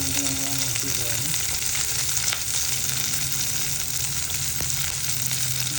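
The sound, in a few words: ginger and garlic frying in coconut oil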